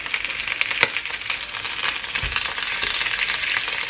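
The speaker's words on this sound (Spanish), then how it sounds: "ahora con ayuda de unas pinzas lo que vamos a hacer es darles la vuelta" Chicken pieces sizzle in a hot pan and are turned with tongs for arroz con pollo, giving a steady, close frying hiss with a couple of sharp clicks as the pieces are flipped.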